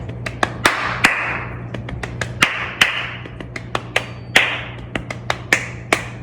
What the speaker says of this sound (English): Chest, chest, leg, leg, clap, clap.